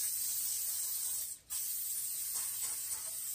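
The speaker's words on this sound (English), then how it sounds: "Spray some cooking spray in here to get these things coated real good." Cooking spray hisses steadily into pans, a continuous close aerosol spray with one brief break in the middle.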